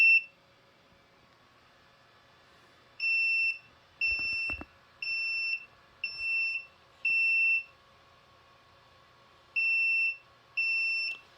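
Repeated shrill electronic beeps from the low primer alarm on a Frankford Arsenal X-10 progressive reloading press, steady pulses roughly a second apart with a short pause and a couple of faint knocks, no speech.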